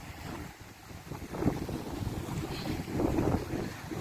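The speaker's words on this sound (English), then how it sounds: "Yeah, man, the wind is terrible," Strong wind buffets the microphone outdoors at the ruins of Parottee, St Elizabeth, Jamaica, a continuous rumbling roar with gusty surges, loud and close, with no voices.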